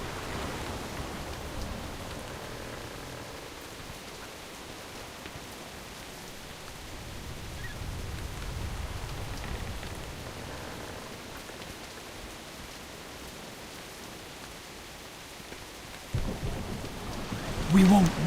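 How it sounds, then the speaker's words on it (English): Steady rain and rolling thunder from the World of Warcraft video game fill the scene with a constant wash of downpour, swelling into low rumbles midway and again near the end, with no clear speech. "I must speak to the crew about the rain."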